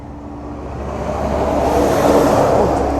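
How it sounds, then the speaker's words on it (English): A noisy lorry passes an overnight motorhome stop in Scotland, its low engine rumble swelling steadily louder and closer over a few seconds, with no talking. "Oh, noisy lorry."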